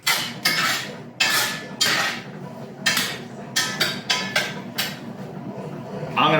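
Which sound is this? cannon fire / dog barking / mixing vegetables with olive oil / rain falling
mixing vegetables with olive oil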